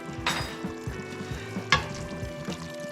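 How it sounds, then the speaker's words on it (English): Mushrooms with sherry, brandy, herbs and spices cook gently on low heat in a pan, a soft close sizzle broken by a few sharp stirring scrapes and clinks. "I'm just going to let that on a very low heat sweat for a little bit to get the alcohol out of there"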